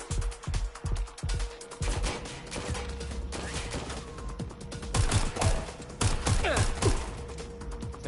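Gunfire in a video game: a rapid run of sharp, close shots opens the stretch, followed by scattered single cracks and bursts over a steady mechanical hum and background clatter.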